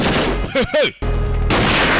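Short bursts of gunfire from a dubbed action film, The Commando, crack loudly over a blaring soundtrack. A narrating voice briefly sounds between the shots.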